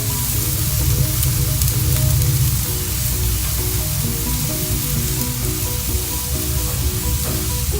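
Ribeye steak topped with a pat of butter sizzles loudly and steadily on a grill, a continuous close frying hiss with faint crackles and no talking.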